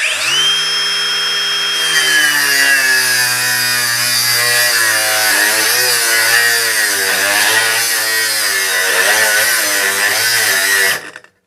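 A Ryobi brushless angle grinder with a new disc cuts through 20mm square steel bar, its loud, close, continuous whine dipping and wavering under load for about ten seconds before cutting out abruptly.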